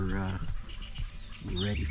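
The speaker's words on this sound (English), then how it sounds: "So sun's out, birds are definitely out." Birds chirp and tweet on a clear, sunny morning at a campsite in Costa Rica, bright calls overlapping steadily over a low hum, with brief voices breaking in.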